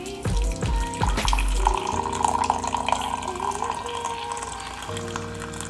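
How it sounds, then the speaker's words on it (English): Hot water poured onto hemp seeds in a container, a close, continuous splashing gush with shifting tone as the vessel fills, the flow steadying after the first second. "I'm gonna pour this water on the seeds."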